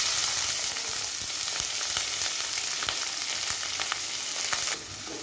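Two large chopped onions fry in a pan after fennel seeds have popped, giving a steady, loud, close sizzle with scattered crackles and spatter pops and no voices.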